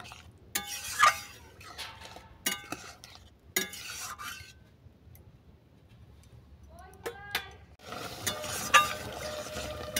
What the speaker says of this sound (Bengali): চিনি আর গরম মশলা ভালো করে মিশিয়ে নিলাম।